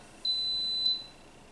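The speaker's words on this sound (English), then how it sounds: "It's going to beep and start warming." An Instant Pot pressure cooker gives a single sustained high electronic beep lasting under a second, clear and close in a quiet kitchen while chicken korma is being made.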